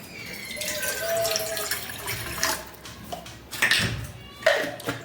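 Tap water runs into a pot for making tea at home, a close, splashy stream with a few clinks and knocks of the pot as it fills.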